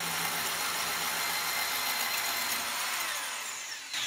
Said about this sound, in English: Stop the hole saw, retract it.